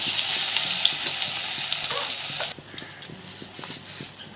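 Chicken fries in a pan over a low flame with a bright, continuous sizzle, dotted with small pops and crackles, close and moderately loud.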